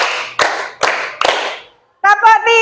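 A class of students claps together three times in an even beat, crisp and close, followed by voices chanting in unison.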